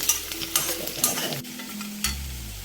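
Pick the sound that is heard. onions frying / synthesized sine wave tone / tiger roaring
onions frying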